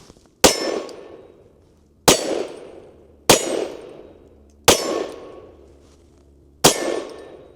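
Five shots from an HK CC9 9mm pistol firing Liberty 50-grain +P ammunition, each a sharp, loud crack with a fading ringing tail, spaced about one to two seconds apart with quiet between them and no talking.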